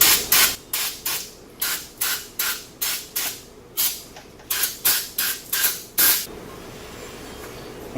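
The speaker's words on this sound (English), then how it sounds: "I'm going to take a little carburetor cleaner and clean it up just a little" Carburetor cleaner sprayed onto the axle hub of a Polaris RZR in a series of about a dozen short, sharp hissing bursts in steady rhythm, close to the microphone, then a quiet tail.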